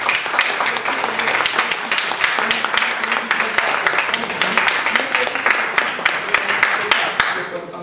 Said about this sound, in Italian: Posso applaudire